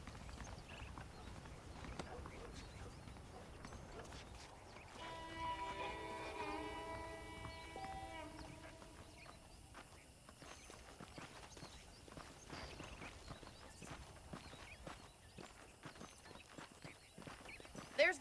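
Horse hooves clip-clop steadily through a Red Dead Redemption scene as a rider moves at an easy walking pace. A faint voice speaks at times, and a brief whinny may come through the ongoing footfalls.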